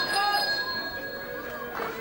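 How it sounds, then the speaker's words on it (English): A steel ring bell clangs at the end of a round in a televised professional wrestling show, its bright sustained tones ringing near the start and fading under crowd noise and commentary. "The bell rings for the end of the round"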